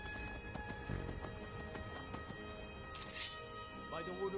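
Rhythmic video game hoofbeats of a galloping horse clip-clopping at speed, with a voice briefly speaking over the game sounds.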